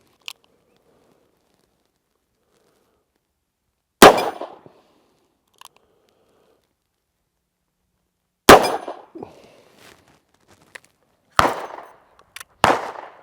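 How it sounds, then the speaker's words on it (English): A Colt Trooper Mark III .357 Magnum fires at steel plates, among them a red 6-inch plate, with sharp, loud, separated shots and metallic clangs at about 4, 8.5, 11.5 and 12.7 seconds, each followed by a short ringing decay in otherwise near-silence. "my last 2 rounds, we're gonna go right for that red plate, the 6-inch plate."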